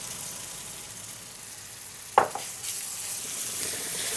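About a cup of onion paste goes into a pan of hot spiced oil for a pointed gourd curry. A steady soft sizzle jumps into a brief, louder hiss as the paste lands, then settles back into a continuous fry.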